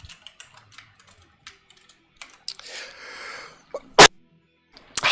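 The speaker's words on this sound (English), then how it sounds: "Sorry, just had to sneeze." A single sharp sneeze bursts out loud and close, then a second one follows a second later, both cutting through a quiet room with faint keyboard typing and clicks scattered beforehand.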